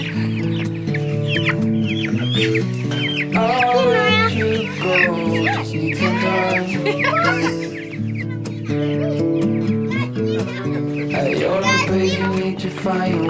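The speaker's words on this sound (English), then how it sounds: "The good thing about broiler chickens" Broiler meat chickens cluck and cheep steadily while being carried out to a backyard, with children's voices and chatter mixed in close by throughout.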